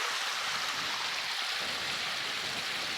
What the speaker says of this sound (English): It's very pretty waterfall.